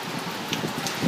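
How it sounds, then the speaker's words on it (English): Steady rain and trickling water pour onto a balcony, with occasional splashes and drips standing out, close and continuous, no one speaking. "I have a free waterfall on my balcony every time it rains."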